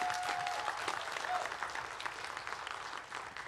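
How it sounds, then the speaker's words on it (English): Audience applause at a Hal-Con 2013 fan convention Q&A welcoming author Terry Brooks: dense, steady clapping from a room full of people, sustained at even loudness throughout with no voices over it. "Let's give a round of applause for Terry Brooks,"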